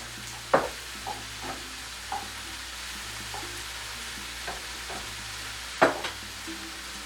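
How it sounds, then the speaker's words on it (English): Meat frying in a pan under a steady low sizzle, with a few sharp close scrapes and knocks of stirring spaced several seconds apart. "stir the meat, add a little bit of salt and pepper"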